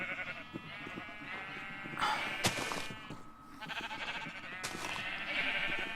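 A sheep bleats in a modded survival video game, letting out a few wavering bleats at close range, some longer and some short, over a low background.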